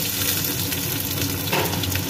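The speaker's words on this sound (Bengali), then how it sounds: "তেলটা গরম হয়ে গেছে, দিয়ে দিচ্ছি এর মধ্যে পেঁয়াজ।" Chopped onions hitting hot oil in a pan, a loud close crackling sizzle that holds steady with a brief surge of spattering partway through, no voices.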